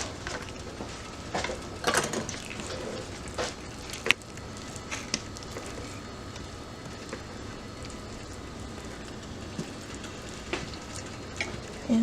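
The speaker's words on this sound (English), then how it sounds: "It's sizzling some." Cornbread batter with cheese sizzles in hot oil in a pan, a soft steady crackling hiss throughout with occasional light clinks and scrapes of utensils.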